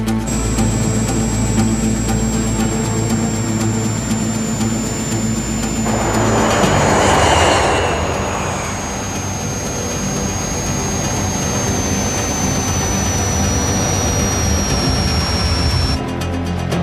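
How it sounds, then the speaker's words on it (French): Jet airliner engines roaring steadily with a high whine, swelling into a louder broadband rush midway as reverse thrust is applied on landing, then settling back to a sustained drone. "Il faut que j'inverse la poussée."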